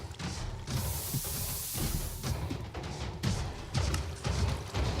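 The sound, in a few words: iron golems dying in the video game Minecraft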